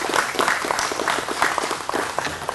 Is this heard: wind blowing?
no